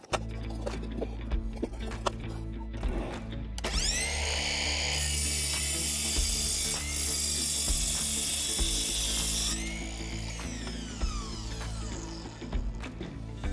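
A Ryobi cordless sliding miter saw spins up and cuts through a 5 cm thick wooden beam, giving a loud sustained whining, rasping cut of several seconds that winds down afterward, amid scattered handling clunks.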